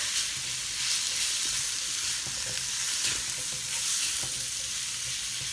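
A curry spice blend sizzles steadily in a hot pan as it is stirred with a spoon, with a continuous hiss and faint scraping, close and unbroken, with no voices.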